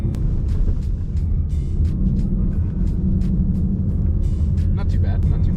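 A Ford S197 Mustang GT with a manual MT-82 gearbox rumbles steadily from inside the cabin as it drives, a continuous low engine drone.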